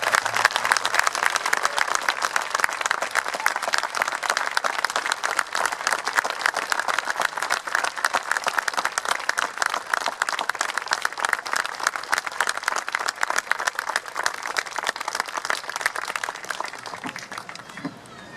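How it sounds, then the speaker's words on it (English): Sustained, loud applause from an audience fills the room for honored veterans, including a World War II veteran, at a county freeholders' Memorial Day ceremony, tapering off near the end. "One more round of applause for all of them"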